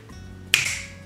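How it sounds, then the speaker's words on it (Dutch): A single sharp finger snap cracks out close and loud, ringing briefly before fading into a quiet room. "Ik knip met mijn vingers en dan hebben we handdoek nat haar."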